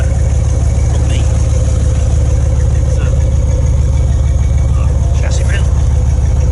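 A Range Rover P38 engine idles loud and close in a steady, unbroken low rumble, with faint background sounds briefly rising above it.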